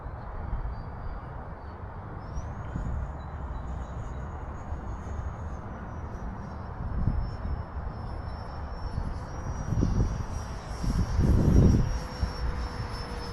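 An FMS Futura 64 RC model jet flies overhead, its steady electric ducted-fan whine holding high and continuous with a low wind-like rumble beneath, swelling somewhat louder toward the end as it passes nearer.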